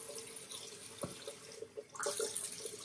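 Water from a bathroom tap splashes into a sink as the face is wetted before shaving, a quiet, close, continuous trickle with a brief clunk midway and a fuller rush toward the end.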